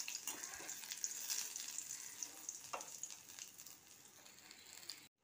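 Crushed cardamom, cinnamon and cloves hissing and sizzling in hot oil left over from frying katla fish, a steady bright crackle throughout with a few louder pops, no talking.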